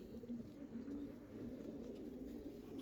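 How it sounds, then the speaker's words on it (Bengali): A male Chuina pigeon coos in low, steady, rolling tones, close but faint against a quiet background. "এটা একটা চুইনা নর কবুতর"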